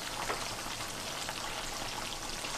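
Whole fish and smelts frying in hot oil, a dense, steady crackling sizzle heard up close with no break and no voices.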